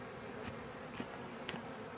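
Honey bees from a swarm buzz close by in front of a hive. The buzzing is faint and continuous, with a few individual insects passing near.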